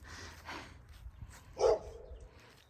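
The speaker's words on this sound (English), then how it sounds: "My neighbor's dog just realized I was outside." A neighbor's dog barking in a garden setting, a few faint, distant barks with one sharper bark standing out, no talking.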